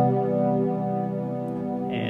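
A sustained synthesizer chord played in Reason rings out alone, steady and full with many stacked harmonics, holding for about two seconds with a brief brighter accent near the end.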